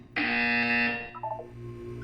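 A loud electronic buzzer in the game Portal 2 blares for about a second, then cuts off into a lower fading hum.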